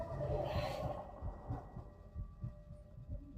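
Heartbeat effect from the video game Little Nightmares: a low, steady rhythmic thumping pulse repeating about twice per second under an eerie drone, moderately loud and alone.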